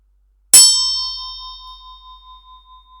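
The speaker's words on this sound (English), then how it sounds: "So I'm about to ring the bell now." A single bell is struck once, giving a bright clang that rings on with a long, clear sustained tone and a slow wavering beat as it fades in an otherwise quiet room.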